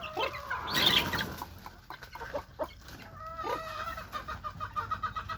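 Chickens cluck and chatter nearby in short, uneven bursts, with one louder squawk near the start.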